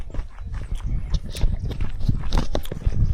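Horse hooves clip-clop steadily on a trail ride down toward Kaindy Lake in Kazakhstan, close and fairly loud, with repeated irregular strikes and no talk.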